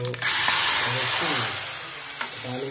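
Tempering (talimpu) for Nellore-style drumstick sambar sizzles loudly and steadily in a pan, a continuous hiss of frying oil close by, with faint background voices underneath.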